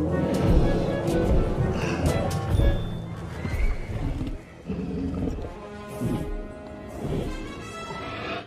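A T-Rex in the video game Jurassic World Evolution 2 lets out a loud, sustained roar with rough, growling texture that carries on without pause.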